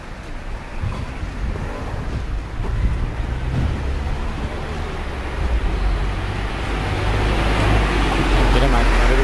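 Cars passing close by on a narrow street with no sidewalk, a steady roadway rumble that swells as vehicles approach and grows louder toward the end, with wind buffeting the microphone.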